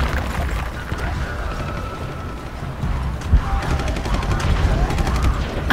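Gunfire in the Shadow of the Tomb Raider video game, rapid crackling bursts and pops running through the whole stretch, loud and dense, with a voice talking over the shooting.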